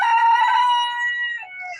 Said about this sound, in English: we're going to feed the chickens